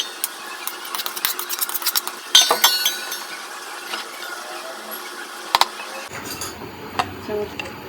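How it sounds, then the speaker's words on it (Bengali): A spoon scrapes and clinks in a pot as chicken pieces are mixed into biryani rice, making irregular ticking and rattling taps, a louder clatter midway, and a changed, muffled scraping texture toward the end. "আমি এখন চিকেনগুলো মিক্সড করবো।"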